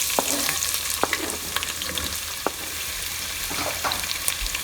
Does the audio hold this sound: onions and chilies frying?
yes